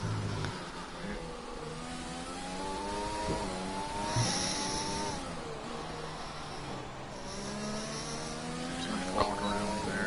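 A Racing Point Formula 1 car in a racing video game revs steadily through the gears, its high engine whine rising and falling in repeated sweeps, with another car's engine faintly behind.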